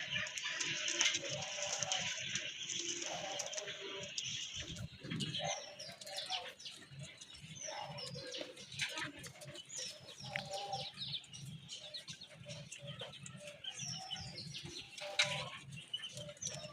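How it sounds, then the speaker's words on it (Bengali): Native pigeons in breeding mood coo steadily nearby, mixed with chirps, brief wing flutters and scattered clicks throughout, with no talking. "এখনো কিন্তু ব্রিডিং মুডে আছে কবুতরগুলো।"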